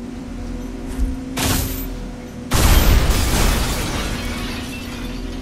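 A promethium explosion in the sci-fi shooter game Alien Rage: a heavy burst around a second in, then a louder booming blast with a rumbling, crackling tail over a constant low hum.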